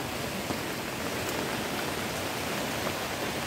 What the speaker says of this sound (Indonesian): di suasana hujan begini.